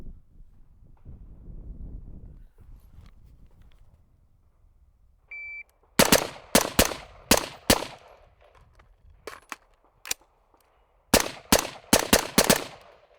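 Pistol and rifle gunfire rings out during timed shooting drills: a single electronic timer beep, then two quick strings of sharp, cracking shots, spaced closely with a short lull between them.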